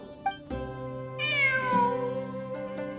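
A cat in the Genshin Impact video game meows in a clear, close, rising-and-falling call, followed by softer tonal game sounds in a quiet setting.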